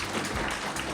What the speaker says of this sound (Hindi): एक बार उनके लिए भी ताली बजनी चाहिए